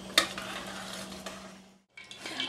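Potatoes stirred into lamb stew broth in a pot, a steady scraping, sloshing stir with a brief clink of the utensil near the start, pausing briefly before resuming.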